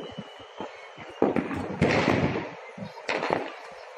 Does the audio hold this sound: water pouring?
no